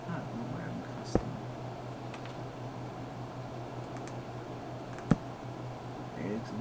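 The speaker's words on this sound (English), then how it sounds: "Hey, you can hear me clicking around here." A homemade joypad-style controller for a computer game gives two isolated, sharp clicks several seconds apart, standing out over a steady background hum and soft murmuring.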